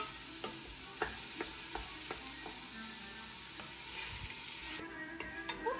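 Onions frying in a pan for Afghan shorwa, a steady soft sizzle with occasional stirring clicks and scrapes, close and moderately quiet throughout.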